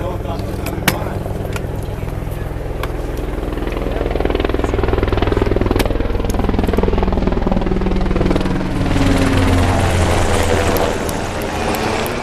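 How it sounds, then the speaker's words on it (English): A UH-60 Blackhawk military helicopter flies over an outdoor event. A loud, continuous rotor roar builds and swells, with voices talking underneath. "I think the helicopter is coming by"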